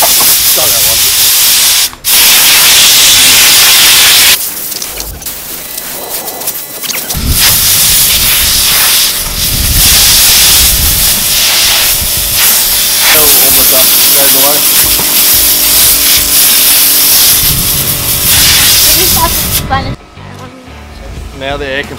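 Compressed air from an air compressor roars in a loud, steady hissing gush through an air filter being cleaned, with a brief cut early on and abrupt stops near the end.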